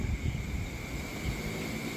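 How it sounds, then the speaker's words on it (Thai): Strong wind buffets an outdoor microphone as a continuous, fairly loud low rumble with steady gusting texture, alone with no talk. "โอ้ลมแรงครับเสียงลมนะครับผม"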